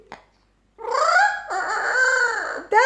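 A small green pet bird imitates a rooster's crow, giving a short chirp followed by a long, loud, drawn-out crowing call and a final rising note, close up with no talking.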